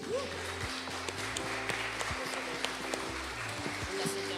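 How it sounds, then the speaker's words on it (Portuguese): A church conference congregation applauds, its scattered clapping running under a sustained voice throughout. "Aplauda ao Senhor por isso"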